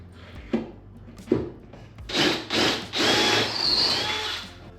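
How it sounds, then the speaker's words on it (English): A power drill with a 3/8 inch bit whirs in several bursts, biting into wood with a gritty grinding tone, preceded by a couple of sharp knocks; close and fairly loud. "I have the same 3/8 drill bit that was used to make these holes"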